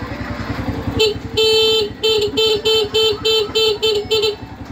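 A motorcycle horn, just repaired at its contact point, honks in a series of short, loud beeps in quick rhythm over an idling engine, close by.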